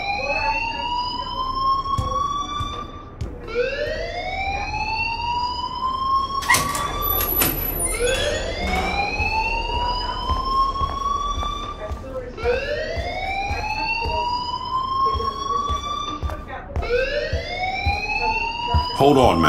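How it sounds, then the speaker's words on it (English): Fire alarm in the video game Life Is Strange, sounding as loud rising electronic whoops that repeat steadily about every two and a half seconds throughout, with a brief high beep partway through. "please turn off that alarm"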